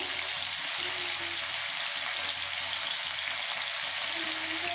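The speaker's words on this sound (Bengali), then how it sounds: "পনিরগুলোকে দিয়ে আমি একটু লাল লাল করে ভেজে নেব।" Paneer strips shallow-frying in a pan for a chilly beans paneer dish give off a steady, dense sizzle and hiss that runs unbroken throughout, close and fairly loud, with no voices.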